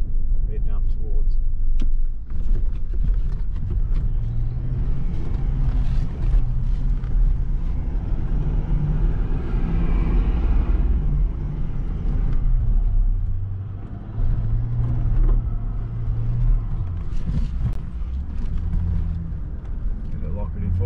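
A four-wheel-drive vehicle on a rough island track heading toward the blowholes on Dirk Hartog Island, Western Australia, with a loud, continuous engine rumble and road noise throughout and people talking over it.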